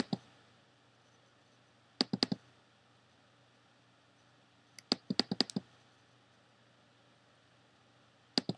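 Sharp computer mouse clicks in small clusters, single and double clicks spaced a few seconds apart against a faint steady hum in a quiet room.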